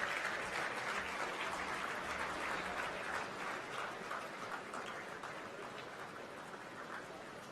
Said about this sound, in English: Celebrations and applause go together